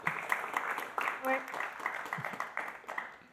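Scattered applause patters through a conference room while a voice speaks over it in French.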